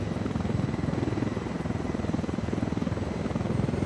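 A purple helicopter follows closely in the video game Ghost Recon Wildlands, its rotor thumping in a steady, fast rhythm with a loud low drone throughout, with no other sounds on top.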